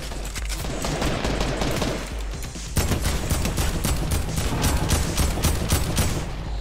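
Rapid automatic gunfire in Fortnite, with dense overlapping shots that keep going for several seconds, loud and close, with a sharp jump in intensity partway through and no voices.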